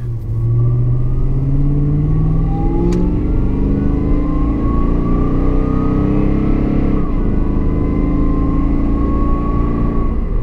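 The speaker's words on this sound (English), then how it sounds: "here we are in our final ride in the Tundra, at least the Platinum Tundra" Toyota Tundra Platinum pickup truck driving, its engine rumbling steadily and rising and falling in revs as it accelerates, heard from inside the cab, loud and continuous with no talking.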